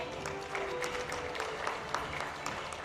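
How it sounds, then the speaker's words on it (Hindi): Applause from an awards ceremony audience at a health conclave in New Delhi, a steady moderate wash of clapping lasting a few seconds with no voices over it. "कम से कम अब तो जोरदार तालियां बजनी ही चाहिए"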